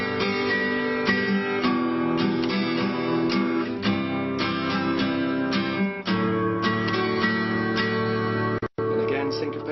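An acoustic guitar strums the same chord in an even, straight rhythm, the downstrokes evenly spaced and loud, with a short gap near the end.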